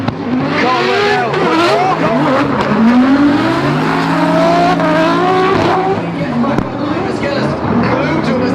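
Drift cars in the British Drift Championship round at Rockingham scream past with loud, sustained revving engines and tire squeal over a continuous roar, while a commentator talks over it throughout.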